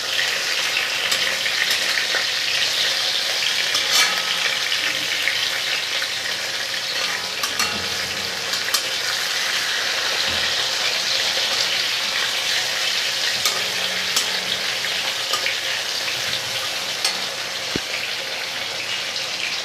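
Bahu fish frying in oil in a pan as the pieces are turned over, giving a loud, steady, close sizzle and crackle that runs unbroken throughout with no talking.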